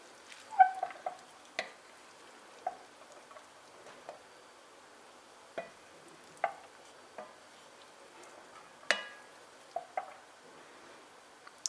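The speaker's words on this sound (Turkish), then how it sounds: "Önce pilavımızı şöyle bir karıştırıyorum." Sparse, soft spoon scrapes and taps as cooked chickpea pilaf with chicken is gently stirred in a pot, quiet and close with long gaps between strokes.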